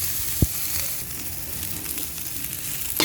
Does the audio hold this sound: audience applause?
no